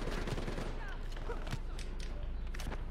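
Rapid gunfire from Call of Duty: Black Ops 3 campaign combat, with dense bursts of shots and automatic fire running continuously under loud game noise and some talk.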